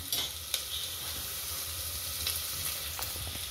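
Ridge gourd added to frying dal for masala birakaya pappu, a close, steady hissing sizzle with a couple of sharp clinks and stirring sounds.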